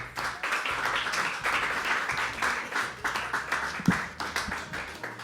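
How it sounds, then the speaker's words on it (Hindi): At a mushaira, an audience claps for the last poet, a steady patter of hands at moderate level with uneven swells and one sharp louder clap near the end. "आखिरी शायर के लिए जोरदार तालियां"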